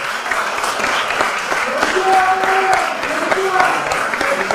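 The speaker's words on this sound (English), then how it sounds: "Please give a round of applause" An audience at a shared parenting conference gives its speakers a round of applause, a dense, loud wash of clapping that stays steady throughout with voices mixed in.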